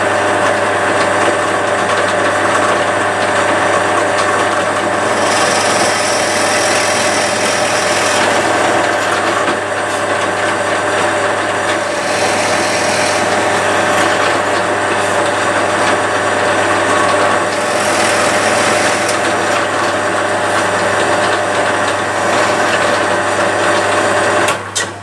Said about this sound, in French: je vais percer à 8 mm sur, j'ai réglé sur 1 cm de profondeur